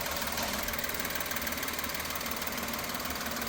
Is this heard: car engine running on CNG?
yes